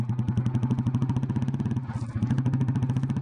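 An old Royal Enfield Bullet motorcycle idles up close with its steady, loud thumping single-cylinder beat, evenly spaced pulses that dip briefly near the middle before resuming.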